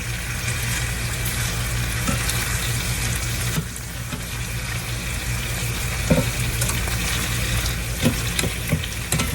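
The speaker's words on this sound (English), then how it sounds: "I want that bacon to cook now." Bacon frying in a pan while cabbage is cooked Japanese-style, giving a steady, loud sizzle with a few scraping and stirring knocks.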